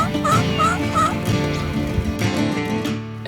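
A big wild turkey jake gobbles repeatedly near a hunting blind early in the morning, with several loud, rattling gobbles close by over steady outdoor background sound.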